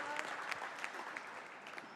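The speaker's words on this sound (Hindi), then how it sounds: "तालियां बजाई भाई" Audience applause at a Hindi patriotic poetry recital honouring the Indian Army, a steady moderate clapping that sounds somewhat distant and continues without a break through the whole short stretch.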